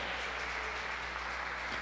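Church congregation applauding steadily during a sermon, a continuous, moderately distant wash of clapping with no voices over it.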